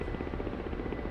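An old attack helicopter in the DCS World flight game drones steadily with a rhythmic rotor thump and engine whine, loud and constant throughout.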